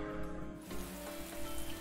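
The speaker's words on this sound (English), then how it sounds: "And suddenly rain." Rain in the video game Atelier Ryza 2 sets in as a dense, steady hiss of falling drops that fills the background evenly, with no voices over it.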